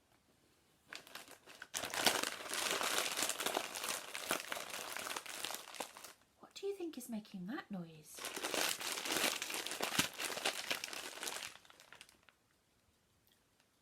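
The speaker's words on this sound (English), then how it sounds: "It's the crisps. The crisps are making that noise." Bursts of crisp packet crinkling, loud and close, in two long stretches separated by a short spoken question.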